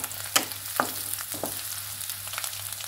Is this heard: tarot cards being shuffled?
no